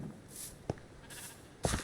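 A few faint, short sheep bleats from the video game Minecraft, scattered over about two seconds and heard quietly against near silence.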